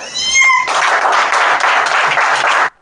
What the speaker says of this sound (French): Cette ambiance de joie teintée d'applaudissements